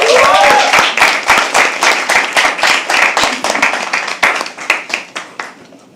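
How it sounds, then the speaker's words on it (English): Audience applause at a live poetry open mic, a burst of close, sharp hand claps that starts dense, then loosens into scattered individual claps and fades out toward the end. "Please, a round of applause."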